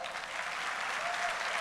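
A short, steady wash of applause from a seated audience at a talk, moderately distant and even in level.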